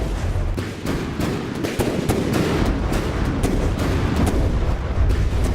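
Artillery shells exploding in a video game battle, a dense, continuous barrage of loud booms and crackling impacts layered over one another, with no pauses.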